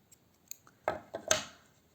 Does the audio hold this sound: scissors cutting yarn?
yes